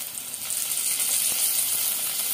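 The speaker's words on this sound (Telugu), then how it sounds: "కరివేపాకు వేసేసుకొని ఒక్కసారి కలిపేసేసుకుందాము." Curry leaves dropped into hot frying masala for an egg and potato curry, giving a steady, fairly close hiss and crackle of sizzling oil with no voices.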